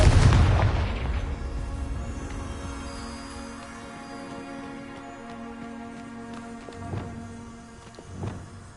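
A blasting-spell explosion in a video game opens with a heavy, booming burst that rolls off into a long fading rumble, followed by a couple of softer thuds near the end.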